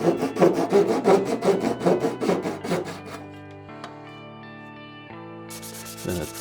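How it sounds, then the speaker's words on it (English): A flush-cut saw (plakhoutzaag) trims plywood dowels flush, giving rapid rhythmic rasping strokes for about three seconds, loud and close, then stopping as sustained tonal background music carries on. "you put it against the wood and then you slowly pull. It's for trimming dowels and such."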